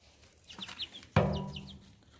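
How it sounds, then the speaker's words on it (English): Young chicks clucking and peeping close by, with a few soft chirps followed by a louder burst of clucking that trails off. "there you go, my little chicks on April the 10th"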